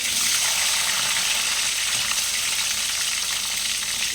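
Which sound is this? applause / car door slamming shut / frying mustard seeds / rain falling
frying mustard seeds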